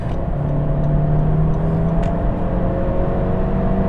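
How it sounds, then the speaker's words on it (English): Steady engine hum and road noise inside a 2016 Honda Civic Coupe accelerating on a highway, a continuous whir with a slowly rising tone, fairly loud and unbroken, no voices. "So let's check out the acceleration on the highway."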